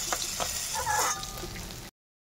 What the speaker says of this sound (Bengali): এবার আমি তুলে নিয়ে পরের মাছগুলোও ভেজে নেব